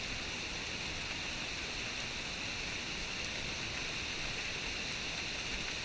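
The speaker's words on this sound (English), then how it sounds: "I hope you can tell how much it's raining." Downpour over a backcountry canoe portage trail: a constant broadband rush of rain falling all around, unbroken and steady for several seconds, no talking.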